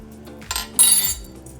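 A spoon clinks against a metal pot while rice is stirred in salted boiling water, giving a few short close metallic knocks and scrapes over a low simmering background.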